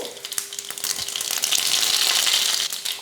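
Mustard seeds hitting hot oil in a pan for an okra stir-fry, a loud hissing sizzle that swells and holds steady, with scattered crackling pops and no talking.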